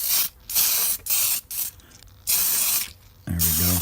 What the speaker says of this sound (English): I'm shaking up my TS80 flat clear from Tamiya, and I'm just going to shoot some flat clear on here.